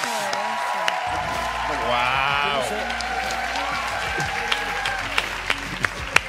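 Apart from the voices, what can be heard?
audience applause for Leonor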